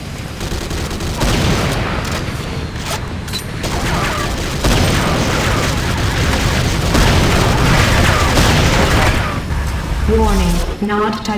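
Explosions and bursts of gunfire in a real-time strategy battle as a Nod Tiberium Refinery comes under attack, a dense, loud, continuous barrage with booming impacts and a synthetic voice announcing warnings over the din.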